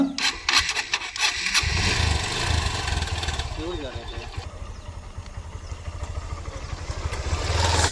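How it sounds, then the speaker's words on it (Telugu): Motorcycle engine running steadily as a used bike sets off on a ride, a low continuous drone that begins after a short burst of handling noise and stays fairly close throughout, with a voice briefly audible early on. "ఈ బండి మీద ఒకసారి రైడ్ చేద్దామా"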